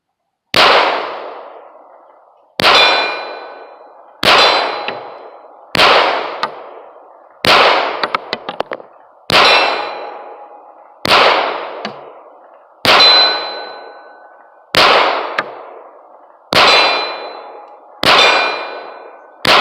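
Eleven sharp, loud pistol shots from a Tisas Regent BR9 Hi-Power clone fired at a range, evenly spaced about every one and a half to two seconds, each with a ringing decay.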